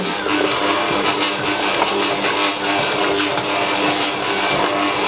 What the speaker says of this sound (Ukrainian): Насадочкою гак на низькій швидкості починаю замішувати